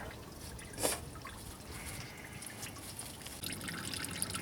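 Coolant drips and trickles from a removed hose on a 2014-2018 GMC Sierra 4.3L V6 during a water pump replacement, faint and close, with one sharper drip near the start over a soft, continuous running trickle.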